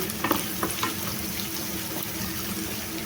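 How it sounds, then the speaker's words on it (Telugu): Onions with ginger garlic paste sizzle steadily in a hot pan for a raw banana fry, a loud, close, continuous frying hiss broken by a few stirring scrapes near the start. "పచ్చి వాసన పోయే వరకు ఒక రెండు నిమిషాలు ఇలా ఫ్రై చేసుకోవాలండి"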